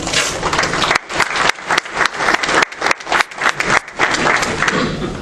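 An audience at a county sheriff's debate applauds, a dense burst of clapping from a roomful of people that comes in uneven surges and holds strong throughout.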